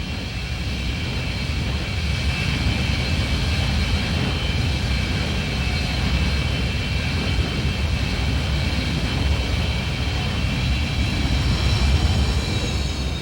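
A Hawker Hunter FGA-9 jet with an Avon 200 series engine, flying in a hot climate, gives a steady, loud broadband roar with a thin high whine that holds unchanged throughout, with no voices.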